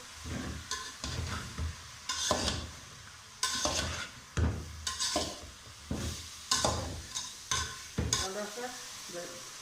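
Bottle gourd being stirred with a spoon in oil in a pan, a steady sizzle broken by repeated scraping strokes of the spoon, close and fairly quiet, with no voices.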